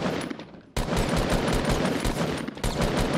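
Gunfire rattles through a Fortnite Battle Royale match in rapid, dense automatic bursts. It breaks off briefly twice and runs loud and continuous with no talk.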